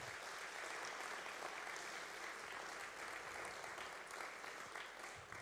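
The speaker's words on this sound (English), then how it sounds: "Let's give them a round of applause." A church congregation gives a round of applause, a steady, continuous wash of many hands clapping, heard at a distance and fairly quiet throughout.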